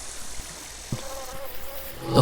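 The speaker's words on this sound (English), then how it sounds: "There are a few insects buzzing lazily through the air" Several insects buzz lazily through the air of a silent room, a faint, steady drone that stays low and unbroken with no voices.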